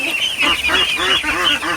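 Farm goose, the flock's guard, honks in a quick series of loud, close, nasal calls, several honks in under two seconds with no talking.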